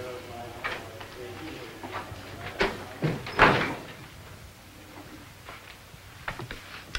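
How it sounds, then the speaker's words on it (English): An office door is pushed shut in a 1950s police squad room, a solid thump standing out around the middle of the clip amid faint room noise and scattered smaller knocks and footsteps, with a voice speaking nearby. "Come on in, shut the door."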